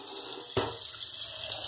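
Homemade aluminium and stainless-steel brightener liquid drips, giving one faint, sharp drop over a quiet, steady background with no talk.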